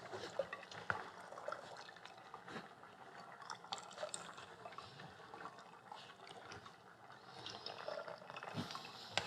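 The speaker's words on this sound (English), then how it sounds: "I'm going to press on these bones because we've worked too hard to leave any of this liquid behind" Liquid from a fish stock drains and trickles as the spent bones are pressed, a steady close wet patter and dribble running throughout with no talking, in a seafood dish from the French Riviera.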